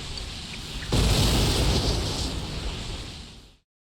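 A sudden explosion from the video game Persona 4 Golden bursts in after a steady rumble and sustains as a loud, broad roar for a few seconds before cutting off abruptly.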